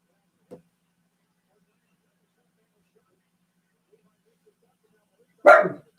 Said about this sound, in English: Luna, stop barking.